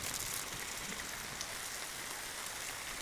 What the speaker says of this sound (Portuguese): a chuva tá grande, ó, gente